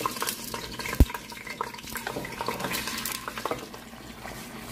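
Meat sizzles in oil in a hot pan or pot, a dense crackle with scattered pops and utensil clinks, plus one sharp knock near the start.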